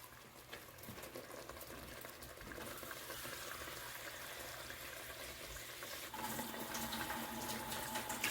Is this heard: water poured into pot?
yes